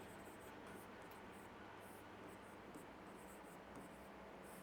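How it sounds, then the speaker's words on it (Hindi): Chalk or marker scratching steadily on a classroom board while a teacher writes out a definition, a continuous faint scraping texture with no talk. "यहाँ पर लिख देती हूँ इसकी परिभाषा"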